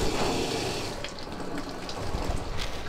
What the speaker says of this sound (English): I'm going to turn the water back on.